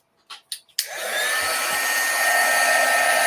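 After a few soft clicks, a handheld heat dryer switches on to dry a stamped paper card, a loud steady whirring blow that holds evenly to the end, close and with no talking.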